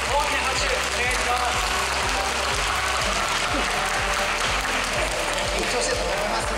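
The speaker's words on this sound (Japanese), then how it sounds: "大きな拍手お願いします" A crowd applauds after a spinning-top battle tournament final at a large convention, dense steady clapping that holds at full strength throughout, with a rhythmic low thumping underneath.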